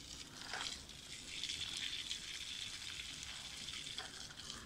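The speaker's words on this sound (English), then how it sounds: "I'm here doing the watering." Potted plants in a garden at a Jamaican Mammee Bay rental are watered, a soft continuous spray and patter of water that is quiet and steady, with no talking.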